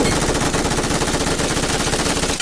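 Rapid automatic gunfire from the mobile battle royale game BGMI rattles in one dense, loud continuous burst that ends abruptly.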